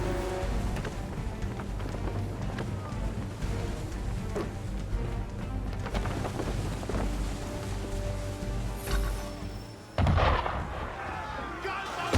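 Cannon fire from a ship at a boat at sea in Assassin's Creed III, heavy booming blasts and rumbling impacts over a dense game soundscape, with a sharp loud burst near the end.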